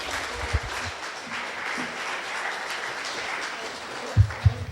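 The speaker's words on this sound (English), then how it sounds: "So let's welcome more than just two people, but all these great people to the stage. Let's give them a round of applause" Audience at a youth mental health summit applauds people coming onto the stage, broad sustained clapping from a sizable crowd, with a few low thumps near the end.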